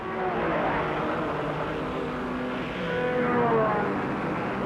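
A touring car laps a red Camaro during a 1967 Australian Touring Car Championship race at Lakeside, engines droning and shifting pitch as they pass at moderate distance, a continuous rough motor hum throughout.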